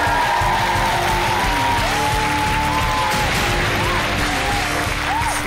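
A studio audience at a lecture show applauds continuously, with dense clapping and a few whoops rising above the crowd.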